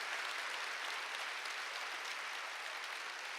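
A church congregation clapping hard and continuously during a sermon, an even, sustained wash of many hands that holds steady at full strength throughout.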